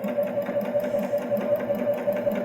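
A Baby Lock Jazz II sewing machine stitches fabric toward a corner, its motor running in a steady, fast rhythmic whir with even needle pulses, close and clear with no talking.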